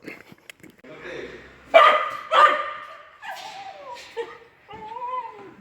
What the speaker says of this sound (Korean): 여기 심프로 강아지거든요.